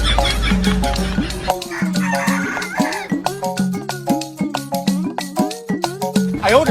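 At a poultry stall, live chickens cluck loudly and repeatedly, with crowing and squawking calls coming in quick, uneven bursts close by.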